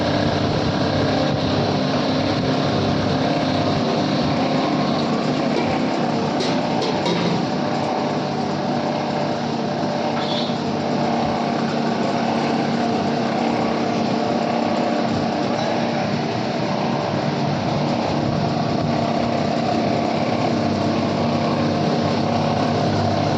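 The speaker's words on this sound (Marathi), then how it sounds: "मशीन ॲटोमॅटिकली प्रोडक्शन घेत आहे आणि सुंदर अशा पद्धतीने आपला शेवई निघत आहे" An automatic vermicelli-making machine with a built-in fan hums and whirs continuously at an even, loud level, a steady mechanical drone with no pauses.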